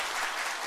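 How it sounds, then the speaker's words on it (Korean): Applause from a seated audience at a Buddhist monk's dharma talk, a short, dense burst of many hands clapping at steady loudness with no voices over it. "박수 부탁드려요, 여러분"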